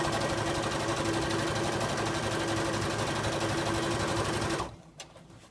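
Sewing machine stitching a trouser hem along its crease line, running with a steady rapid mechanical whir and hum, loud and close, then stopping abruptly near the end, leaving a few faint clicks.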